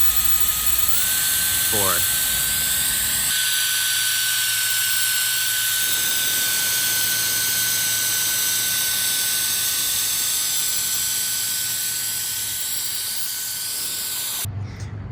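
A PECODE electric air duster runs outdoors by a pool, stepping up through its power levels to full blast: a loud, steady high-pitched whine with a strong rushing hiss, rising in pitch once early on and then holding constant until it cuts off. A voice counts briefly.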